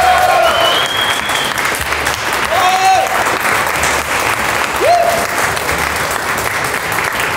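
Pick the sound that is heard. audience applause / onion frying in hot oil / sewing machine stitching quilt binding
audience applause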